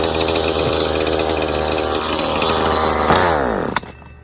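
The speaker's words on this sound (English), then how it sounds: "everything runs good on this hedge trimmer" A Poulan Pro hedge trimmer's small two-stroke engine runs loud and steady close by with a buzzing, harmonic-rich drone, then winds down and cuts off near the end.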